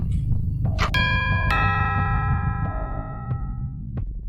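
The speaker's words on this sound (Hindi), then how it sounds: "घर की डोरबेल बजी।" A house doorbell rings out in a quiet home, a clear chime of a few bright tones that linger and fade, followed by a soft tick.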